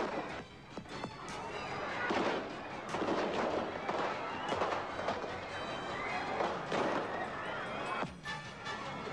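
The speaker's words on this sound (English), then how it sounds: "then they opened fire with automatic weapons" Chaotic bursts of automatic weapons gunfire and sharp cracks from the assassination of Sadat, dense and overlapping over a noisy crowd with shouting.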